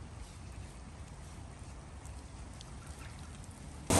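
Rain patters steadily and faintly on surfaces during a winter morning walk in Lister Park, a soft constant hiss with a sudden louder burst of noise at the very end.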